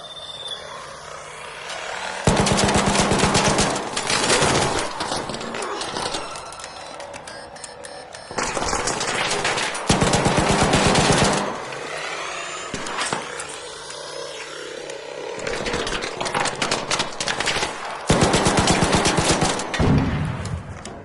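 Enemy gunfire in the video game ARC Raiders, with dense, loud bursts of rapid automatic fire in several long volleys over a constant noisy game background and no clear talking.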